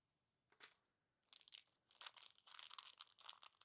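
A set of keys is handled for a DIY lockbox, giving a sharp metallic jingle followed by quieter clinks and rattles in short bursts, close and fairly soft, with silent gaps between.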